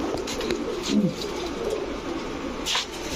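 A pair of Mili racer pigeons, a cock and a hen, coo softly up close in a steady low murmur, with one brief sharper rustle near the end and no talk.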